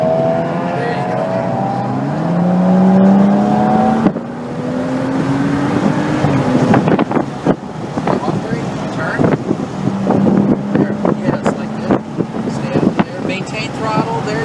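A BMW accelerating around the Circuit of the Americas track, its engine note rising in pitch through the gears under heavy wind buffeting, with an instructor talking throughout.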